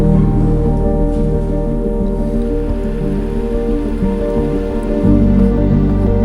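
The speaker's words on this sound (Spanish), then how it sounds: "Soy totalmente consciente de que está lloviendo" Steady, dense hiss of rain pouring onto a city street in Qatar, loud and continuous with a low rumbling bed and no voices.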